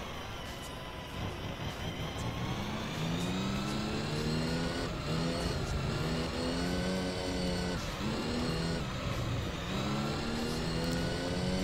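An Opel Astra race car engine in the video game Gran Turismo 3 revs loudly and steadily during an endurance race, pitch climbing and dipping as gears shift, continuous and close with no talking.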